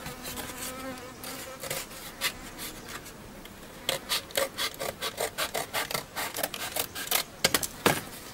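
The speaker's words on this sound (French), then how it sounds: "je découpe ma paragnatide" Material is cut out for a Gaulish helmet cheek guard, a run of short rasping cuts that starts sparse and quickens into a quick irregular rhythm, close and fairly quiet.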